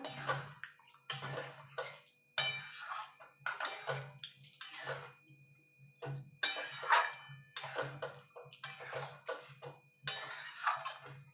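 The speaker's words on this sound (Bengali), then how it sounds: "টক দইয়ের বাটিটা ধুয়ে জলটা দিয়ে দেবো।" Bowl rinse water from washing out a sour yogurt bowl being added to a chicken kosha cooking pan, heard as repeated bursts of splashing and swishing with clinks of metal utensils between pours, close and fairly quiet.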